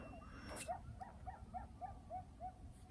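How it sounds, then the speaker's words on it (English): Coyotes calling far off at dusk: a faint run of high, evenly spaced yips carrying over a quiet outdoor background, with no one speaking. "The coyotes are waking up."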